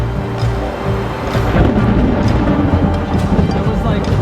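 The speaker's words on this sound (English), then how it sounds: "the sky opened up and walls of rain started to pour down around us. And then came the lightning." Thunder from a nearby lightning strike rolls and rumbles low and heavy through a pouring Costa Rica jungle rainstorm, building in loudness over a wash of rain.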